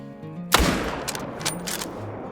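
A rifle fires once at a gator in a hunting video game, a loud, near, sharp crack followed by a rolling echo, with faint ambient tones around it and no talking.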